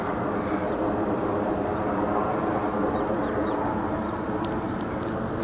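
Freewing Rebel V2 RC plane on a 5s battery flying overhead, a steady droning whine of its electric motor held loud and continuous, with faint higher chirps on top.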